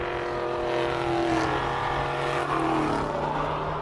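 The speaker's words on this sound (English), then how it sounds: "One of the Porsches running up the hill now, and followed by the Lotus" A Porsche race car climbs a hillclimb course at a classic car event, its engine a steady, loud drone with a strong low hum that holds throughout.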